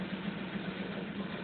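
A motorbike engine idles in the video game GTA 4, a steady low rumble with an even pulsing throb, held close and constant throughout with no voices.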